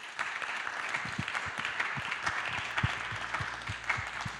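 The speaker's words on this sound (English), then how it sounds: "We can applause them." An audience at a museum natural history conference session applauds after presentations, a steady patter of many hands clapping at moderate distance for several seconds.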